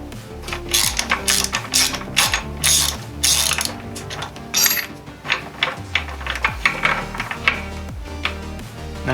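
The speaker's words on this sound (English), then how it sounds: "we can go ahead and access our 6mm bolt here in the foot peg area and pull this out" A ratchet clicks rapidly and loudly in quick bursts as a 6mm bolt is backed out of the foot peg area of a 2021 Ducati Scrambler Desert Sled motorcycle, with metallic tool clatter between the pulls.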